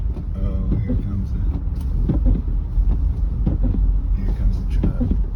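A truck drives by on a snowy road during a snowstorm drive in Southern Maryland, its steady engine rumble and tire noise close and continuous throughout.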